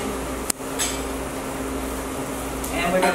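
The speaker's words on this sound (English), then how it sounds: "Stirring is the key to keep from burning." Onions and mushrooms being stirred in a sizzling pan, a steady frying hiss with a sharp utensil clink near the start and soft scraping toward the end.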